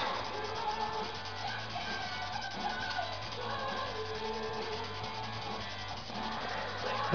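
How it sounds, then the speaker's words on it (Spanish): Continuous scratchy rubbing of 800-grit sandpaper over a filled seam line on a plastic scale model, steady and close-up with no pauses and no talking. "Ahí tengo mi lija 800."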